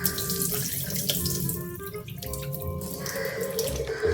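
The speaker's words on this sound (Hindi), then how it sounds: "इनका पानी निकालते हैं।" Water runs from a kitchen tap into a sink as boiled chickpeas are drained, a close, steady splashing stream with scattered drips and gurgles; no talking.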